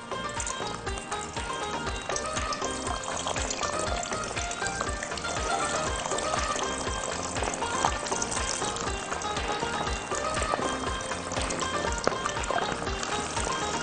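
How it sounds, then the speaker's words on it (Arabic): Stuffed mumbar, a beef intestine stuffed and boiled then fried in hot salted oil, crackles and spatters loudly and continuously in the pan without letup, close and dense, with no talking. "في حاجات كتيره بتتحمر بتقعد تطرطش، فراخ، لحمه، ممبار"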